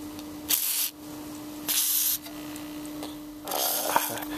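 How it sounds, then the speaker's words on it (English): Three short bursts of aerosol spray, WD-40 aimed at the worn potentiometers of a 1964 Motorola black-and-white tube television, each a sharp hiss lasting about half a second, with a steady electrical hum underneath. "WD-40"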